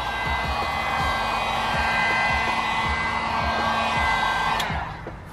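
A heat gun blows steadily and loudly up close, heating vinyl wrap material for a shark fin antenna, with a constant airy roar that cuts off near the end.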